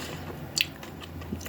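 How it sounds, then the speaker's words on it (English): Biting into a Rocklets candy bar of chocolate and caramel with a crunchy candy shell, producing a single sharp crunch near the mouth and a softer chewing squish afterward. "hearing the crunch of a candy shell"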